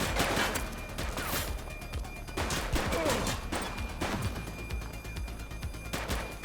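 Gunfire from a suspect in The Precinct video game comes as repeated sharp shots in irregular bursts across the stretch, moderately loud over a constant background.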